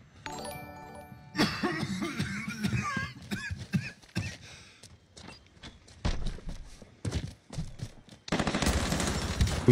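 Gunfire in the Truy Kich video game, a rapid burst of automatic shots at the start, then scattered sharp single cracks and short bursts, with another dense burst at the end.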